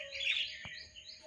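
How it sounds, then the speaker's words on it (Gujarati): Busy, bright chirping from a flock of mynas gathered on a solar panel, moderately distant and steady, with no voices. "બધી કાબર છે"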